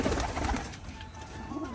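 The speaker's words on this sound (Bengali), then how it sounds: "দেখুন এবার কিন্তু সমস্ত পায়রা বেরিয়ে যাবে" Pigeons being released coo softly and rustle nearby against a low, steady background, with a few faint calls scattered through the short stretch.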